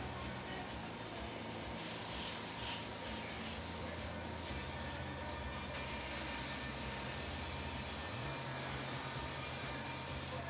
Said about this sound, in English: I'm barely spraying this on.